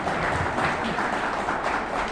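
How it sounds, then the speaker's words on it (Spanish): An audience at a judicial conference in the State of Mexico applauds, a dense, steady patter of clapping that fills the whole short stretch at moderate volume. "Les pido un fuerte aplauso"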